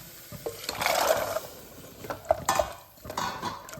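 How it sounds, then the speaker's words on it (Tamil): Soaked chickpeas and their soaking water splash into a pan with clattering of metal utensils and a wet sloshing rush, followed by scraping and stirring nearby. "இப்போ இந்த கொண்டக்கடலையை சேர்த்துக்குவோம்."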